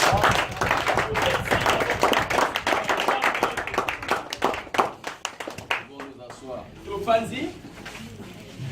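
A church congregation applauding for God during a service, dense rhythmic clapping from many hands that thins into scattered claps, with a voice speaking over the end.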